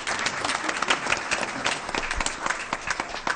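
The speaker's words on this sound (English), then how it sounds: "let's give them one more round of applause." Applause from a full house at a school board meeting, a steady round of clapping from the audience that stays dense and even for the whole stretch, with no talking over it.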